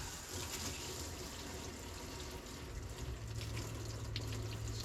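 Water running steadily from a tap in a camper with the water pump on, a continuous close hiss and splash with a low pump hum underneath.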